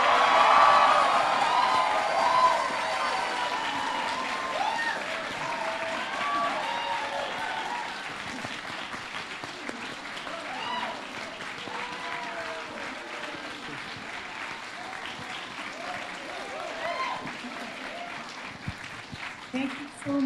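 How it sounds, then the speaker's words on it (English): Audience at a pony fan convention panel gives voice actor guests a big, sustained round of applause mixed with cheers and screams, loudest at the start and gradually thinning over about twenty seconds. "I would like to get the biggest, most amazing, screaming round of applause for the wonderful guests that we've had here today."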